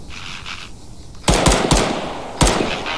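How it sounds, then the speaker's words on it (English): Video game gunfire in Antistasi: a few sharp, loud shots in quick succession, with a final shot after a short pause and a quieter rumble beforehand. "You hear gunfire."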